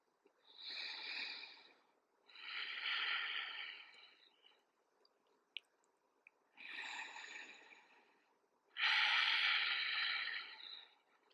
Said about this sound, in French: 5 respirations profondes et longues.